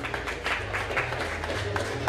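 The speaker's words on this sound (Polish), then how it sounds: "Wielkie brawa dla naszych zawodników." Audience applause for MMA fighters at a weigh-in for the Silesian MMA Challenge 2 event: a steady wash of many hands clapping at once, with a low hum underneath.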